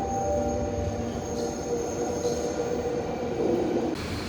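Singapore MRT train on the Downtown Line running between Chinatown and Bayfront stations, a steady close rumble with tonal motor whine and faint wheel squeal throughout, no voices.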